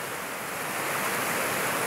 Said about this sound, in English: This is the Glade Creek, G-L-A-D-E Creek.